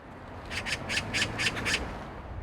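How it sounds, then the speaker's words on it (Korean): A magpie calls outside a house in the morning, a series of about six harsh, rasping chatters in quick rhythm, fairly close and clear over a low background hum. "반가운 손님이 오는 날이라고 까치도 온다."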